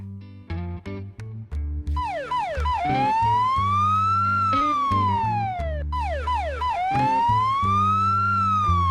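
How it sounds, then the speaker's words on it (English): Police car siren with a wailing tone that sweeps up and down in long repeated cycles, loud and close. Short percussive musical notes open the passage and a bass line runs beneath the siren. "Police car."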